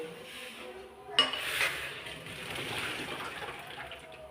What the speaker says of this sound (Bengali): এবার ঢেলে দেবো ঝুড়িতে